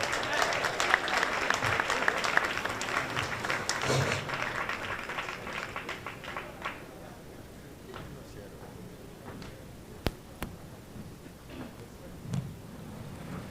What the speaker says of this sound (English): one more round of applause for Senator Schumer and Ambassador Nick Perry